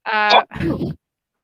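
A single loud, close sneeze: a short voiced intake breaks into a sharp, breathy burst, followed by silence.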